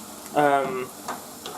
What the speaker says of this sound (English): Currently cooking a stir fry.